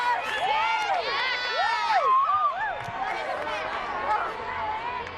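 A crowd cheers and whoops at a 2015 Pac-12 women's gymnastics championship, loud sustained shouting with rising and falling individual yells over general arena hubbub.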